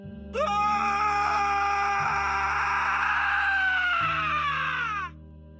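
A man's long, sustained scream of horror in a Hindi horror story narration. It is loud and unbroken for about five seconds over a low, pulsing dramatic drone.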